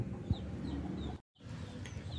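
Chickens cluck softly at close range over a low background murmur, with a brief dropout to silence partway through.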